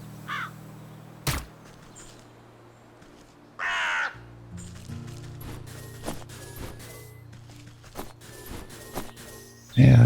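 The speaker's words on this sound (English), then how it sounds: "Oh, it is a crow." A crow in the game Wytchwood gives a couple of short harsh caws against quiet ambient game sounds, with soft clicks and footstep-like taps scattered around them.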